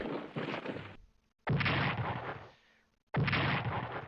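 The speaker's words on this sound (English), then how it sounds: "Bombarding my ports." Naval bombardment of coastal ports in the strategy game Strategic Command, heard as three loud, dense bursts of booming gunfire separated by short silent gaps.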